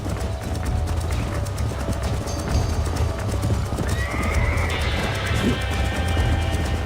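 Horse hooves clip-clop at a gallop in the Red Dead Redemption video game, with a horse neighing over a steady, loud wash of game sound.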